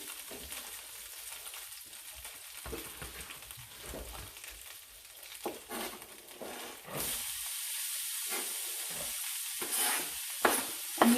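A large onion frying in melted butter in a pan gives a steady hiss and sizzle that grows fuller and brighter partway through, with occasional soft stirring scrapes and no voices.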